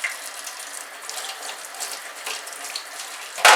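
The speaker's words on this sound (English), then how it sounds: "Just run it under some cold water" Cold tap water runs steadily into a sink to rinse a comb, a close hissing splash with faint clicks, ending in a louder burst.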